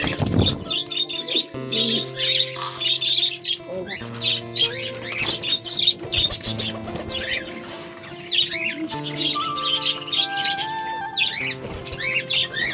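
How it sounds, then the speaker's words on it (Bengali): Pet pigeons flutter their wings in quick bursts near the listener, with soft cooing and chirping calls mixed through a busy, continuous backdrop. "হাতে কে কবুতর সবগুলোই হাতে আসে।"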